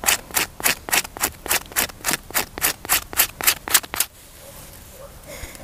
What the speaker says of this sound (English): I'll scrape off the wet outer layer like this